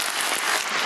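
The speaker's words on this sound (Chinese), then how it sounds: "OK， 我们掌声，" An audience breaks into brief applause at a sales presentation, a dense burst of many hands clapping at once, heard for under a second.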